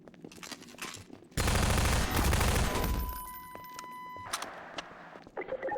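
A weapon fires a rapid, loud burst of gunfire in Half-Life 2 for about two seconds, followed by lingering mechanical ringing and softer game sounds.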